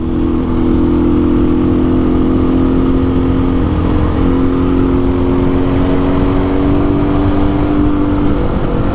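A Templar X motorcycle pulling hard in sixth gear on a road beside a steep drop, its engine a loud, steady drone with a slowly rising pitch that holds throughout, with no voices.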